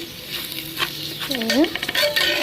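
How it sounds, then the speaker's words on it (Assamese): Rice fries with ginger-garlic paste, salt and whole spices in a pan. A close sizzle mixes with quick stirring scrapes, and a short voice-like tone rises partway through. "আটাইখিনি দি এইখিনিও ভালকৈ ভাজি ল'ম"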